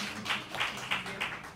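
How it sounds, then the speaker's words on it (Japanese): Sparse, light applause from a small audience at a choro music concert, Asakusa Choro Festa 2022, a few scattered claps rising and falling over a steady background hum. "微妙な拍手ありがとうございます"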